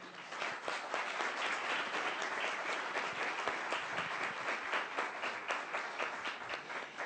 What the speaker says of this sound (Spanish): regalémosle un aplauso, por favor